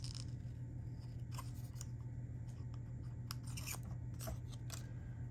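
Scissors snipping store-bought paper ephemera, a few quiet crisp cuts spread over a steady low hum, close by with no talking.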